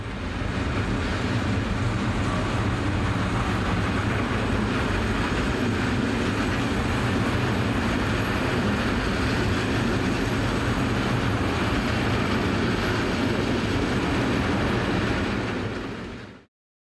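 German and Danish trains move through Padborg station, a loud continuous rumble and roar of rolling stock with a steady low hum, sustained throughout before cutting off abruptly.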